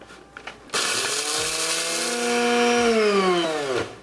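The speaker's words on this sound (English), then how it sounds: "So the way I'm going to do it, I'm going to put it into the processor." A food processor grinds Kashmiri chili and bay leaves into garam masala, its motor roaring up loud and steady for about three seconds, pitch sagging as the blades slow, then cutting off.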